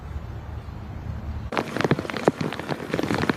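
Rain falls steadily outdoors, beginning as a soft hiss and then turning into a louder, dense patter of drops hitting surfaces close by, with no talking.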